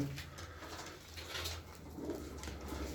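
Tumbler pigeons coo softly and steadily nearby, a low murmuring call that continues faintly throughout with no talk.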